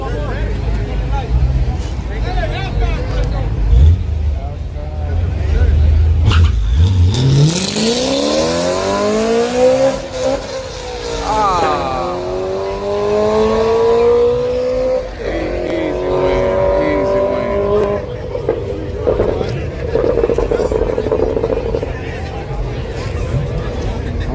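A Top Fuel dragster at a drag strip launches with a deafening roar, its engine note sweeping up as it pulls away, while crowd chatter and loud background noise run throughout.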